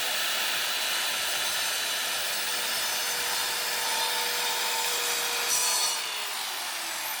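A miter saw cuts through wooden skirting board indoors in a room, giving a steady, loud, continuous grinding whine that holds for several seconds and then tapers off, with no speech.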